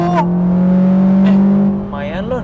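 A 2018 Suzuki Ignis GX with AGS automated gearbox drives on a toll road; its engine drones loud and close, holding a fairly steady pitch, with voices talking near the end.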